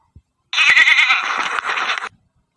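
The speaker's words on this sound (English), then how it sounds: "G for goat," A goat bleats once in a long, wavering, nasal cry that lasts about one and a half seconds, loud and close, with no voices around it.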